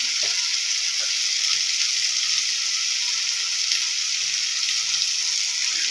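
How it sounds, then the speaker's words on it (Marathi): Spices fry in a pan with a steady, close, bright sizzle throughout and faint stirring scrapes, no talk. "छान असं परतून घ्यायचं."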